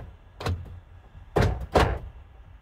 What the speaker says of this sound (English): the door locks will cycle